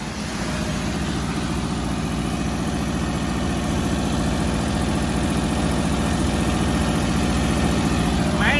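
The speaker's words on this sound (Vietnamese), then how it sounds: "Xe đang nổ máy luôn nha anh em." A 2008 small petrol-engined truck of about 650 kg payload idles steadily up close, a smooth, even mechanical putter with a fine regular pulse that holds at a constant level throughout.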